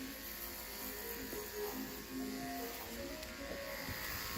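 Electric clippers trim the jaw hair of a therapy horse, giving a steady, close buzz that holds throughout with slight changes in pitch as the blades move through the hair.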